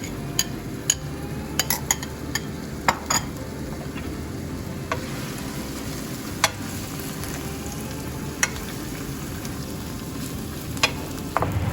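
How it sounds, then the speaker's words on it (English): Shallots, garlic and ginger sear in a pan for Hainanese chicken rice, giving a steady close sizzle with scattered sharp clicks and taps of a utensil against the pan. "we're gonna put in our aromatic mix, which has the shallots, garlic, and ginger that we put in. And we're gonna sear this off until it's golden brown"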